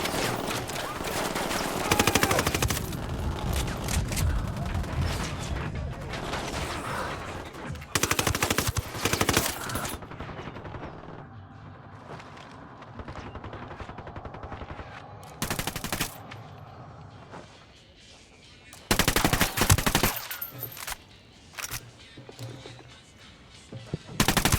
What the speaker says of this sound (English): Taking a shot.